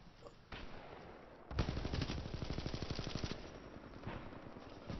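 Rapid automatic gunfire from a hip-fired weapon in the video game Titanfall 2, bursts of fast rattling shots after a brief lull, loud and close with no talk.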